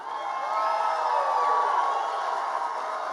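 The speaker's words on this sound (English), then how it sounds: "Give them a big cheer." Team members and audience cheer at a History Bowl 2016 competition: a steady wash of crowd noise and shouting holds at an even level for about three seconds, with no clear speech.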